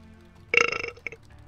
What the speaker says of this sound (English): Victory belch.